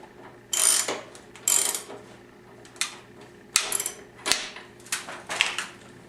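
A hand ratchet tightens a bolt during a Yamaha Blaster ATV engine install, giving short bursts of rapid metallic clicking, several separate strokes with pauses between, close and fairly loud, no talk.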